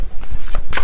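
Tarot cards being shuffled by hand in a few quick, close riffling bursts.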